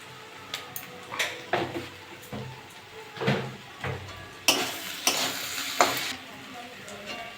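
Ivy gourd and potatoes fry with prawns in a pan, giving a continuous sizzle broken by repeated spatula scrapes and stirring bursts close by.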